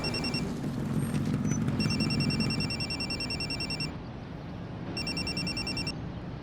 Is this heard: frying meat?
no